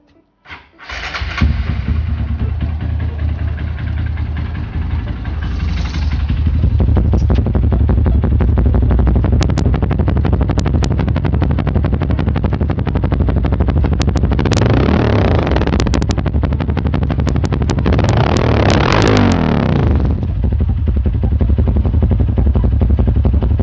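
A 2019 Honda CRF 150L modified as a supermoto starts up close by, then its single-cylinder engine idles and is revved in repeated rising bursts, loud and alone.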